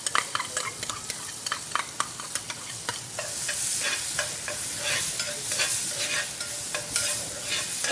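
White onion frying in rendered ribeye fat with seasoning, a steady bright sizzle that swells after a few seconds, broken by sharp scrapes and clicks of stirring in the pan; no voices.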